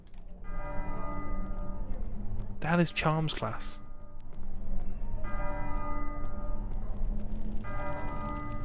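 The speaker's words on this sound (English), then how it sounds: "The ominous bell is ringing." A school bell rings in the Harry Potter and the Philosopher's Stone game on PS1, a short bright clanging burst over a droning musical background, with a voice speaking briefly nearby.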